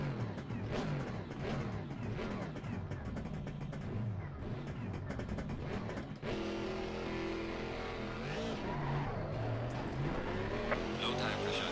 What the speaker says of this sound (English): That's another thunderous engine noise.